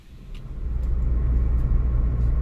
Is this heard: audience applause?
no